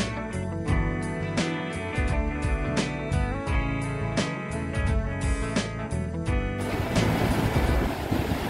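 Surf washing into a natural swimming pool on the coast of Tenerife, Canary Islands, with a broad rushing wash that rises only in the last two seconds after a stretch of music.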